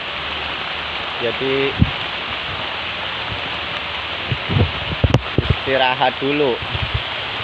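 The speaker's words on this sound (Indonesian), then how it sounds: "ini hujannya sangat deras sekali" Very heavy rain pours steadily as a dense, loud hiss outdoors while grass is being cut, with someone talking over it in brief bursts.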